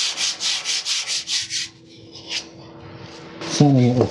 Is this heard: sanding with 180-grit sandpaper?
yes